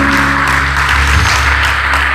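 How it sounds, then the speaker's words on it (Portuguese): Church congregation clapping during a worship service, a loud continuous wash of hands under a sustained low musical hum, steady for the whole stretch. "Aplauda o Senhor."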